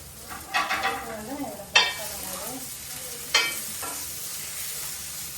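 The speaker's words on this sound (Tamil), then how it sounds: "டோஃபு மட்டும் நான் இதில் ஃப்ரை பண்ணிக்கிறேன்." Tofu fries plain in a pan with a soft steady sizzle, while a few sharper clicks of a utensil against the pan ring out at intervals.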